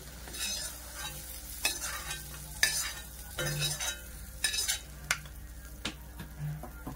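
Tomato masala sizzles and fries in a pan while a spoon stirs it, giving close, crackling sizzle with repeated scraping and clinking strokes against the pan at an irregular rhythm.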